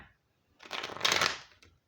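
Tarot cards are shuffled briefly, a quick flurry of riffling and flapping close up, surrounded by near silence.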